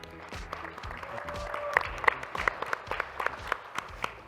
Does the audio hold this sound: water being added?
no